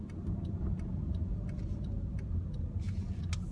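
A car's turn indicator ticks in a steady, evenly spaced rhythm as the car slows for a right turn, the clicks sitting over a low, constant engine and road hum.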